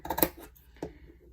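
Scissors snip through fabric to cut small triangles while an ornament is being finished. There are two short, close cuts: a quick cluster near the start, then a single snip a moment later.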